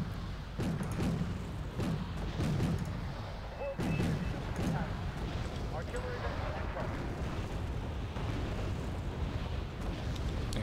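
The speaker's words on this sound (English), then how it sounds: "My mortar got the last shot in, destroying another 30-point unit." Mortar and artillery fire in the real-time strategy game Wargame Red Dragon during a 10v10 battle: a run of heavy, muffled booms in the first four seconds, then a steady rumbling battlefield wash. Faint voices sit underneath.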